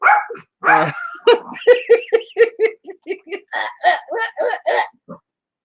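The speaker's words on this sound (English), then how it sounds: "He's barking at you." A dog barks in a rapid string of a dozen or so sharp, close barks, with a voice briefly heard at the start.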